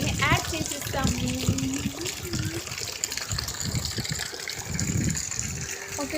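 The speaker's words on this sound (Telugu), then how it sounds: "ఇప్పుడు అందులో వాటర్ పట్టేసి అందులో బట్టల్ని యాడ్ చేసిస్తాము." Tap water gushes steadily into a bucket for washing clothes, a continuous rushing pour that runs through the whole stretch with people talking over it.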